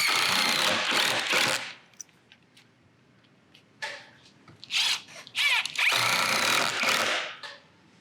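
Power tool bursts driving trim head screws to fasten a hand-hewn beam skin (box beam wrap) tight in a corner, several loud whirring runs separated by quieter pauses and short clicks.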